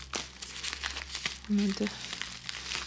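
A small plastic bag from a Walmart Canada parcel crinkles close up in short bursts while it is handled, and someone speaks briefly over it.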